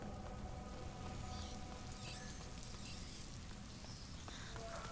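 Steady rain falls in A Plague Tale: Innocence, a soft continuous patter that stays even and moderately quiet throughout, with no voices.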